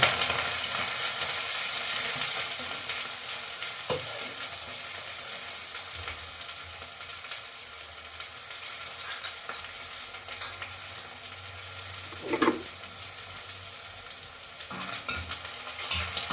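Onion, garlic and chopped green chilies sizzle in a pan after cumin goes in, a continuous moderate frying hiss with occasional stirring scrapes and clinks close by.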